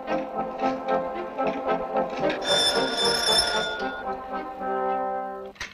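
A telephone rings in a railway station duty office, a bright electric bell with a steady rattling tone that swells loud midway and then fades to a humming ring, with no talk over it.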